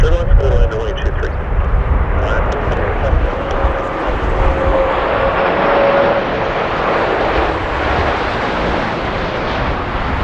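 An Airbus A330 airliner on short final to land at Toronto Pearson on a balmy June evening gives a loud, steady, broadband engine roar that stays close throughout.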